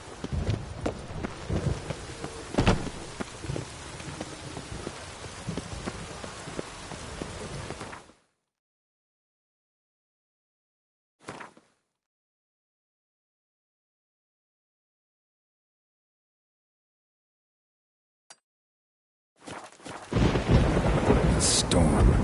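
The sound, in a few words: thunderstorm with rain in The Witcher 3 video game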